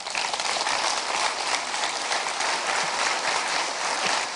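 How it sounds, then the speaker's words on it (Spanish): A church congregation applauds during a Spanish-language sermon, dense, even clapping that fills the room at a steady loudness without a break. "¿Puede dar un aplauso, Señor, por eso?"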